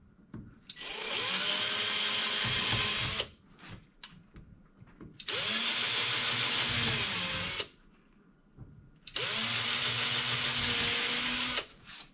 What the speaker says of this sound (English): I'm going to go ahead and drill the other holes for the screw holes